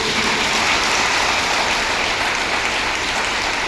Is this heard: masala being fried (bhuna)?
no